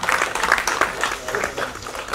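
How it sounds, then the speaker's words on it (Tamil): A burst of audience clapping at a press meet for the Kannamoochi web series, brief and fairly close, with a voice speaking over the applause. "அதுக்காக இன்னொரு அடி கைத்தட்டணும்."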